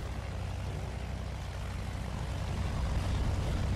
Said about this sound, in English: The pillagers have war planes.